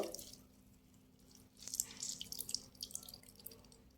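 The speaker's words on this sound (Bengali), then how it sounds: "এই জলটা ফেলে দেবো, জলটা নেব না, এইভাবে নিচুড়ে নিয়ে নেব।" Salted snake gourd is squeezed by hand to press out its water for fritters. Faint trickling and dripping build after a quiet start, with soft wet splashes close by.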